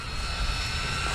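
Nitro-powered 4x4 RC short course off-road car engine held at full throttle, a steady high-pitched buzzing whine that stays loud and continuous without letting off.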